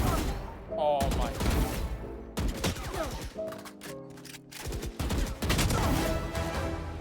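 Rapid bursts of gunfire from a one-on-one deathmatch in Valorant, loud, close bursts of shots broken by short pauses, with game effects layered in and no clear talk over the shooting.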